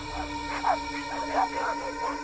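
Several neighbourhood dogs in a residential chawl bark and yelp at night, with two or three short bursts of barking rising over a steady background hum, fairly distant rather than close.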